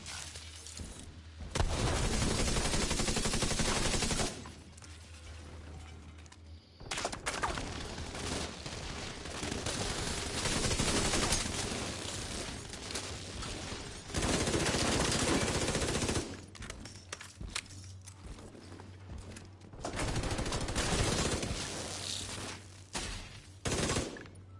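Sustained bursts of automatic enemy gunfire in The Division 2, loud and dense rattling volleys with brief pauses between them, alongside sharp breaking and shattering impacts.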